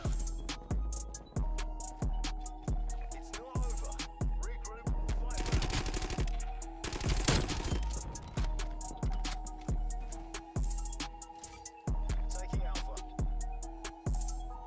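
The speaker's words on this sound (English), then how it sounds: "Where are you shooting at?" Rapid machine-gun bursts from a first-person shooter video game, loud and close, firing in repeated short volleys with brief gaps, denser sustained fire midway, and no talking.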